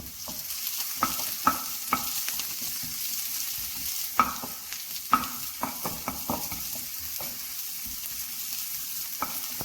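Onion sautéing in a pan with curry leaves and tamarind, a steady frying sizzle broken by irregular clacks and scrapes of a spoon stirring against the pan, with no voices.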